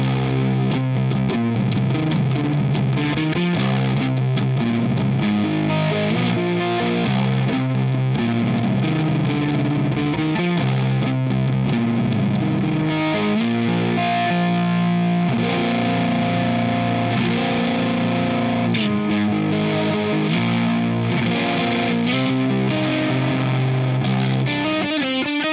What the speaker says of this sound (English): it's got that real nice Marshall clean